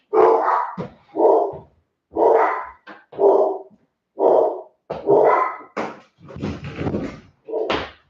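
Dogs bark loudly and repeatedly at close range, a steady run of harsh woofs with brief gaps between them.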